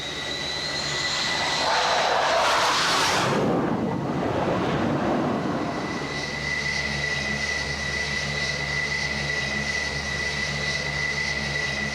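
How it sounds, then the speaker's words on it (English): An F-14 Tomcat jet roars loudly as it approaches an aircraft carrier, its engine noise swelling to a rushing peak and then settling into a steady high whine and low rumble. "Another plane must be guided to the ship."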